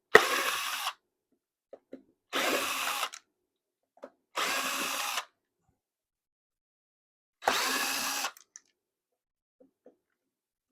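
Power drill with a Torx bit driving a screw, four separate whirring bursts of about a second each with quiet gaps and small clicks between them, close and loud with no talk.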